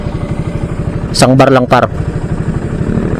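A Raider 150 motorcycle running with a 28mm carburetor, stock CDI and spark plug, its engine pulsing steadily up close, with someone speaking over it for a moment in the middle.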